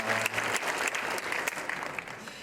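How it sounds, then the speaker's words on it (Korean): Applause from a church congregation welcoming a pastor, a dense steady clatter of many hands close by, sustained throughout without letting up. "큰 박수로 환영하겠습니다."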